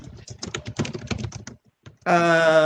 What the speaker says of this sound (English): Whoever's typing, could you mute?